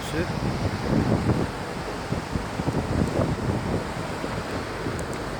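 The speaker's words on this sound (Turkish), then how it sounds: "Hafif rüzgar var, mevsime göre normal." Light gusty wind buffets the microphone on a boat on the Bosphorus in Istanbul, over a low rumble of water and engine, steady and fairly loud throughout, with no clear speech.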